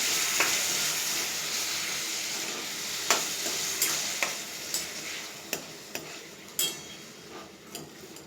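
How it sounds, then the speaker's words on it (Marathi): Chopped pumpkin being stirred into spices frying in a pan, with a steady close sizzle and a series of sharp spoon scrapes and clinks against the pan at irregular intervals. "आता हे मिक्स करून घ्या"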